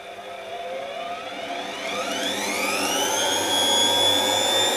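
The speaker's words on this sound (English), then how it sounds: "And now I would expect to see the drum turn clockwise." A washing machine's drum motor spinning up on a test supply, a steady whirring hum that rises smoothly in pitch as it gathers speed, close and fairly loud.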